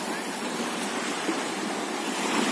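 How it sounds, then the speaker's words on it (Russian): Waves wash steadily onto a stony beach on the Berdyansk Spit in the evening, a dense, even surf hiss and rumble heard up close with no break. "Вот это пляж."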